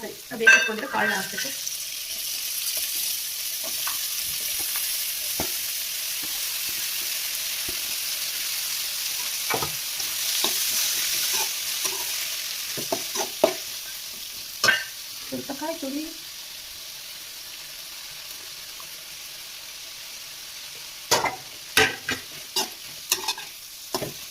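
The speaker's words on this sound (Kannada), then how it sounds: "ಅಷ್ಟು ನೀಟ್ ಫ್ರೈ ಮಾಡಬೇಕು ಇದನ್ನು" Sprouted gram being fried and stirred in a pan on a home stove, with a steady close sizzle throughout and repeated scraping, clinking stirs of a spatula against the pan, busiest at the start and end.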